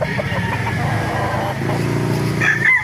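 Chickens at a Baliuag market, including a black bulik hen, with clucking and crowing over steady market and traffic noise.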